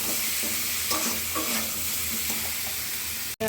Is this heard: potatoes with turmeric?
yes